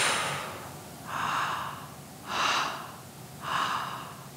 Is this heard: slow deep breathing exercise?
yes